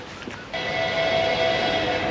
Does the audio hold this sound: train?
yes